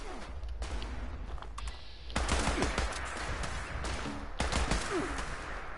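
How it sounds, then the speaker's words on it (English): Gunfire from the video game Fallout 4, shots fired into the air as a run of sharp bursts over a steady game background, with loud broadband cracks clustering around the middle and later parts. "Shoot in the air."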